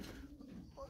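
A black-winged Kuwait miski pigeon coos softly in a brief, low, murmuring call, close by and quiet, with faint background noise.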